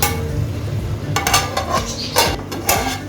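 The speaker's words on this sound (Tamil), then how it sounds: "மூடியை போட்டு மூடிடுவோம்" A metal lid clanks onto a cooking pot holding drumstick and brinjal gravy, with several sharp clinks and scrapes in quick succession, close and fairly loud, no voices.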